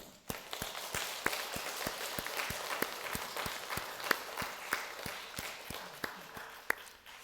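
During a Sunday worship service, a church congregation claps in unison to a steady rhythmic beat, sharp regular claps about three per second over a softer wash of scattered hands.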